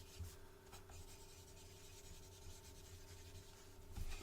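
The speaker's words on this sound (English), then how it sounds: "I just want to write your name on there" A pen writes a name on a package with soft, close scratching and rubbing strokes that run on continuously under a faint steady hum, no voice.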